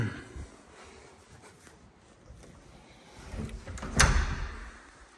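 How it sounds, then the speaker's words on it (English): A garage access door in a newly built luxury house opens with a soft sliding rustle and a sharp clunk of the latch near the end, heard close in a quiet space. "The other garage access is actually on that side over there, which I'll open the door for."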